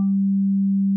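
Native Instruments FM8 software synthesizer playing a single FM tone shaped by a very quick attack and short decay, a steady pure low pitch with a brief bright upper edge at the start, sounding alone and cleanly.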